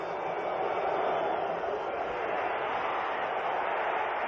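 An 80,000-strong stadium crowd at a Cleveland Browns football game sends up a steady, dense roar of cheering that holds at full volume throughout, with no break or single voice standing out.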